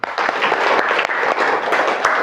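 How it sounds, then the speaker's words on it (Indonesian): A fifth-grade class at an elementary school claps together in a dense, continuous round of applause, close and loud for a couple of seconds. "Kita kasih tepuk tangan untuk kelas 5."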